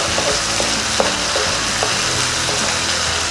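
Cashews frying in a pan for Chettinad-style paneer masala, a steady close sizzle with light scraping stirs and a few soft clinks, no voices.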